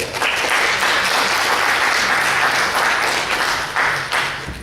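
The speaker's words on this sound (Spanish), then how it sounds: "Por favor, un fuerte aplauso." Loud, dense audience applause at a university academic event, continuous clapping from a room full of people that swells and then tapers off near the end.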